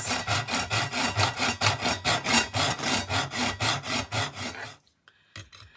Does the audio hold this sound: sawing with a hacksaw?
yes